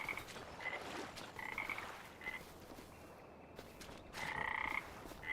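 Croaking frogs in the Farming Simulator 25 game world, several separate bursts of calls spaced across the stretch, the last one strongest, over quiet outdoor ambience with no voices.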